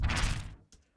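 Designed magical energy-burst sound effect recreated in the style of Harry Potter and shaped with EQ: one dense, full whoosh-like burst that fades within about half a second, followed by a faint brief flicker.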